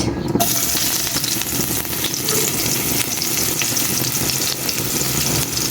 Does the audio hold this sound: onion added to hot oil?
yes